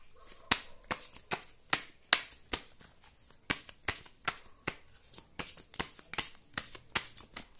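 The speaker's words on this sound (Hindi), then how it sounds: "एक कार्ड और एक और निकालते हैं।" Tarot cards handled and drawn from a deck during a Hindi reading: a rapid series of crisp card snaps and flicks, close and fairly loud, in an irregular rhythm with soft shuffling between them and no talk.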